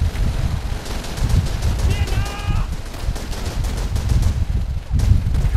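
Sustained gunfire in the video game Call of Duty 3, rapid automatic bursts blending into a loud continuous battle din with a brief tonal sound partway through, no clear talking.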